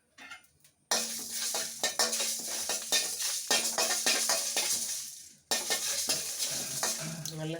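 Fenugreek, cumin, pepper and dried chillies frying lightly in a pan, a loud crackling sizzle broken by frequent metal spoon scrapes and clinks, stopping briefly and resuming, with no talk.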